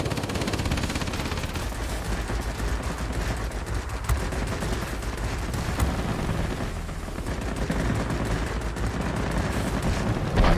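P-61 Black Widow turret machine guns chatter in dense, continuous bursts during a World of Warplanes dogfight, loud and steady over a constant engine roar.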